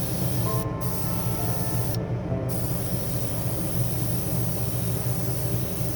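A spray gun lays clear coat onto a scale model Hoonicorn Ford Mustang body, producing a loud, continuous airy hiss with two brief dips, close up and without talk.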